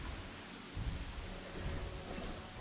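Rain falls in Jurassic World Evolution as a soft, steady hiss with low rumbling swells, faint and continuous throughout.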